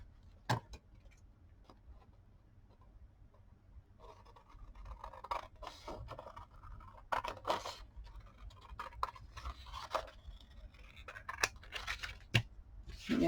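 Scissors snip through folded, creased paper while a junk-journal word book is being made, giving a run of close, crisp cuts with short pauses and quiet paper handling between them.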